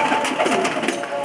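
Pigeons coo softly under a steady wash of outdoor noise, with no voices over the murmuring calls.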